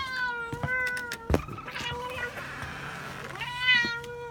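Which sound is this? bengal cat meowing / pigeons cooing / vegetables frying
bengal cat meowing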